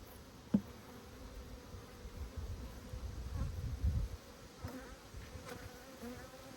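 Honey bees hum in an open hive during an apiary inspection, a soft, steady buzzing close by with a few light knocks and a brief swell of louder activity midway.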